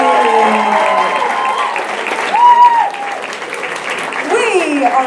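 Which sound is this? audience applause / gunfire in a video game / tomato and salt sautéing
audience applause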